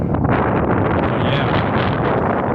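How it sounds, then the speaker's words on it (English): Strong wind sweeps across flat Illinois tallgrass prairie. It buffets the microphone in a loud, continuous roar that stays close and steady throughout. "I'm sure this is super windy."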